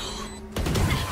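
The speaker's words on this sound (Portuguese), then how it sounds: "o Cypher tá tomando tiro do bomb!" Gunfire in the tactical shooter Valorant, with a sudden burst of dense, loud shots cutting in after a brief hush and carrying on as a rattling barrage.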